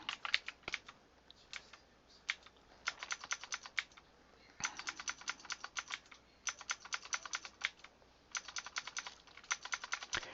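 Keys clatter on a computer keyboard during a roguelike game, quiet clustered bursts of rapid taps separated by brief pauses, close and dry with no talk.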